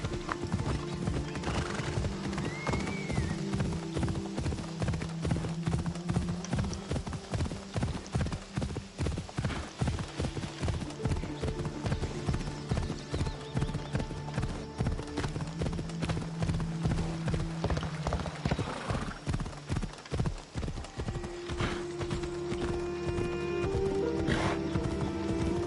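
Horse galloping in Assassin's Creed Odyssey, with rapid rhythmic hoofbeats drumming steadily throughout, close and prominent, plus a neigh near the start and a brief voice early on.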